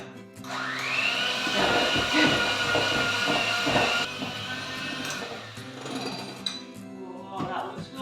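An electric mixer beats thick coffee cake batter, its high motor whine rising steadily and running loud for a few seconds before cutting out, then clinks and muffled kitchen sounds, with a voice speaking over parts of it.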